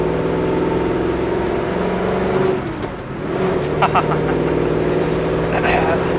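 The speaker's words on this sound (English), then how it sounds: "Engine sounds good." A 1969 Chevrolet Chevelle SS 396 with a four-speed manual rumbles steadily while being driven, a loud continuous engine drone that dips briefly as if shifting gears, with light rattles over it.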